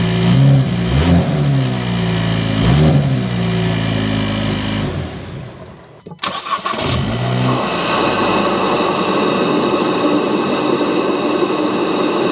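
A Hyundai Elantra N fitted with a newly installed aftermarket air intake runs and revs loudly close by, briefly cuts out, then fires back up with a steady engine roar.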